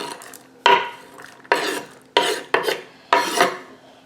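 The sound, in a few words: peppers and onions added to egg mixture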